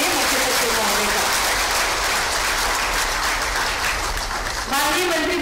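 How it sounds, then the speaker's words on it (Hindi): Audience at an agriculture department appointment ceremony claps steadily and loudly in sustained applause welcoming the chief secretary, dense and continuous with a brief dip near the end. "जोरदार तालियों से एक बार स्वागत करें मुख्य सचिव महोदय का।"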